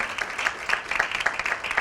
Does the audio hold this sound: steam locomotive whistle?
no